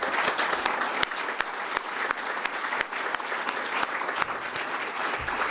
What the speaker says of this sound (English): One last round of applause for all our awardees this morning.